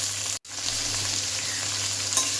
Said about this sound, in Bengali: দিয়ে আমি ভালো করে একটু ভেজে নেবো